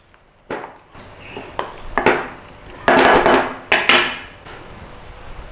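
Beef being stirred through an egg-white marinade in a bowl, giving a series of close, irregular clinks and scraping knocks that come in bursts, with no talking.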